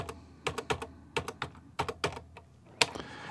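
Computer keyboard keys are pressed in quick, irregular clusters of crisp clicks, close and quiet, with no talking.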